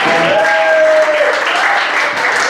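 A live audience at Porters claps for a performer after a radio performance, a steady wash of applause that fills the whole stretch, with faint voices mixed in beneath it.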